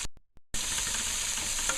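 Cinnamon and clove fry in a pot for beef stew, a dense close sizzle that bursts in after a brief near-silent start with a couple of faint ticks, then holds steady with no talking.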